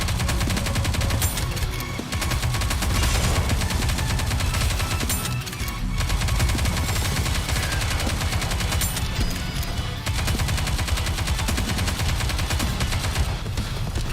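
Rapid, dense gunfire in the mobile game Nikke, continuous rattling bursts layered over background music with no pauses, loud and close for the whole stretch.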